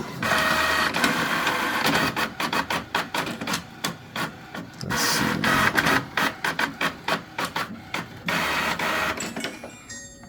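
A printer runs with rhythmic mechanical whirring and rapid repeated clicks as paper feeds through; a voice speaks briefly over it.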